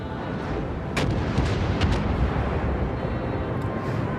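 Tank cannon and artillery fire in a tank battle video game: a continuous rumbling barrage of heavy booms, with a few sharper close blasts near the start over a dense, roaring low background, loud and without voices.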